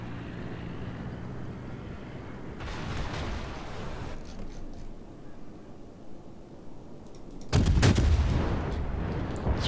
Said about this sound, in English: Squeeze a couple of rounds out between the islands there